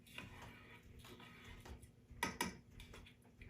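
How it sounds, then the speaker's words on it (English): Long grain brown rice and water stirred in a cooking pot, giving a few light scraping clinks of a utensil against the pot, with a louder pair of strokes near the end. "Go ahead and give this a little bit of a stir."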